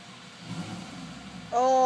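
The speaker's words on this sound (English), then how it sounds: "Oh my god, that is some sick engine." A supercar engine revs up sharply near the end, a loud rising mechanical roar cutting in after quieter background sound.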